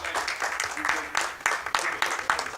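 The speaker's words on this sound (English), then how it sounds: "one last applause for these guys" Applause from an audience at a Roselle Park council meeting, dense and steady with sharper clap bursts, fairly close, lasting a few seconds.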